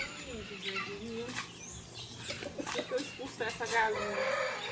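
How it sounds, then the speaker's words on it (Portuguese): A hen clucks on a farm beside an old-wood platform, short soft clucks and brief calls scattered across the moment, close and moderately loud, mixed with outdoor background noise and some voice. "Essa galinha tem umas penas bonitas,"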